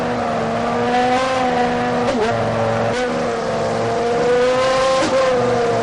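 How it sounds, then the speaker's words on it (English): A racing car engine revs steadily and loudly during a gearbox shift check, its sustained tone dipping briefly at each rapid gear change, heard close and alone with no voices. "We'd like to do a shift check now, please. Just look at how quickly the gears are selected."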